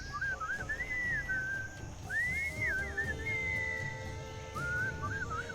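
A melodic whistled tune from a character in the video game Sam & Max Beyond Space & Time, phrases rising and falling in short runs with brief pauses, set over a soft low musical background.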